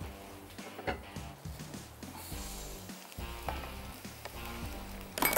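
Masala frying in oil in a pan for a tikka roll filling, a steady sizzle with irregular stirring and scraping knocks close by, growing louder and busier toward the end.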